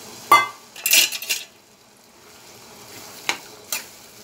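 Water hits a hot pan of frying vegetable curry with jhinga, potato and bori, making a short hissing burst amid a few metallic clinks of utensil on pan. A quieter simmer follows, with another couple of light knocks.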